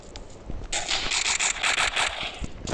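Gunfire in the mobile shooter KUBOOM comes as a run of rapid, sharp automatic bursts through the middle of the stretch, with quieter scattered clicks before and after.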